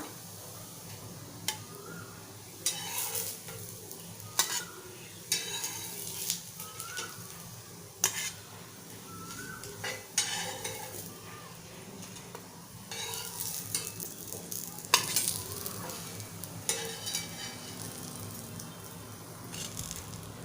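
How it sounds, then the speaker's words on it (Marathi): Raw banana slices frying in hot oil give a steady sizzle, with a spatula scraping and clinking against the pan at irregular moments as the slices are flipped; no voices. "आता आपण दुसरी साईड ही छान फ्राय करून घेऊया"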